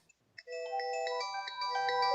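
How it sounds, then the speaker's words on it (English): A phone ringtone goes off after a moment of near silence, a bright melodic electronic tune that rises quickly and continues at an even level. "Is that your phone?"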